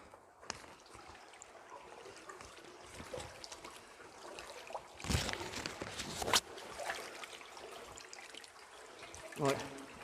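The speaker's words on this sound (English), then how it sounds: "It's just the water." Water trickles faintly and continuously inside the Trill Mill tunnel beneath Oxford, with a louder gush or splash near the middle and scattered clatters from people moving nearby.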